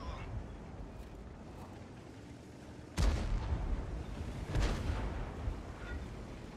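Heavy tank cannon shot landing on an enemy T32 in World of Tanks, a sharp booming blast at mid-clip followed by a second impact-like burst, over a steady low rumble of battle ambience.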